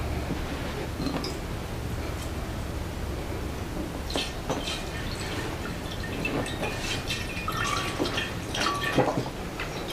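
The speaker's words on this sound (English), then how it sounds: "So I will just put this back in and add fresh water." Fresh water trickles and drips into a houseplant container holding a variegated peace lily, soft splashes and drips scattered over a quiet background, growing busier toward the end.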